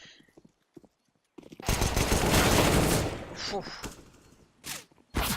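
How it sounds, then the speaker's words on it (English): Rapid gunfire bursts from Counter-Strike on the Inferno map during a competitive match, a loud sustained volley after a quiet start followed by short sharp shots near the end. "Dex just taking pop shots at Jake in here, see if he can hit him in the head"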